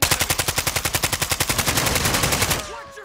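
Video game machine-gun fire: a fast, evenly spaced stream of loud, close shots for about two and a half seconds, then stopping abruptly.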